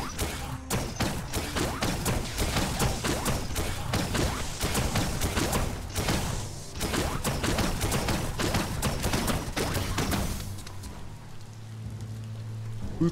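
Rifle gunfire in the video game Biomutant, dense rapid shots crackling continuously for about ten seconds at close range, then stopping abruptly into quieter game ambience.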